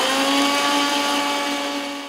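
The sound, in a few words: mixie grinder grinding spice powder for chicken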